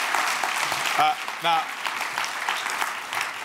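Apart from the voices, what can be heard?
audience applause at gastronomy congress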